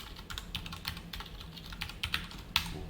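Keys clatter on a computer keyboard in a steady run of close, crisp taps with a few sharper strokes, no voice over them.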